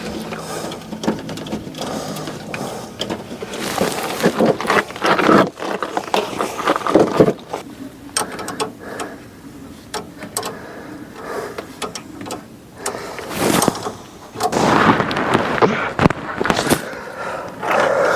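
Wrench work on a brake line fitting of a 2001 Ram 3500 truck: close, repeated scraping, clicking and ratcheting metal sounds that come in bursts, with a person talking at intervals.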